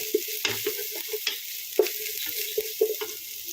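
Cooked rice tossed in a pan with finely chopped spring onion, with close, sharp scraping clinks of the spatula against the pan repeating over a soft, steady sizzle.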